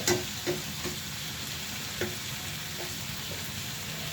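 Potatoes sizzle in a frying pan, a constant close hiss broken by a few soft knocks and stirring scrapes at irregular moments.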